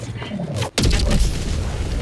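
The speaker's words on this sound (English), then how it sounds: "I got a rail cannon." Rail cannon in the Helldivers 2 game fires once: a sudden, loud, close boom that cuts through the brief quiet before it and leaves a rumbling tail behind.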